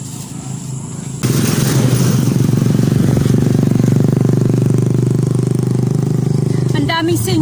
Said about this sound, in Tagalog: Ang daming single na motor.